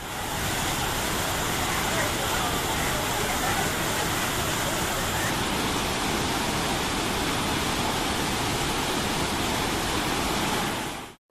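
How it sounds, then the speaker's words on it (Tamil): Water cascades down Thirparappu waterfall in a dense, continuous roaring rush, loud and steady throughout with no breaks. "திருப்பரப்பு அருவியில் தண்ணீர் ஆர்ப்பரித்து கொட்டுவதால்"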